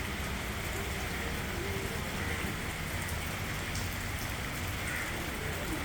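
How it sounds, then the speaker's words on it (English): Pre-monsoon drizzle patters steadily on surfaces outside a home, a dense, even hiss of raindrops that continues without pause, with no talking. "Drizzling, drizzling, drizzling,"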